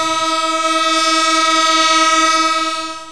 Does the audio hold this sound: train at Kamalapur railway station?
yes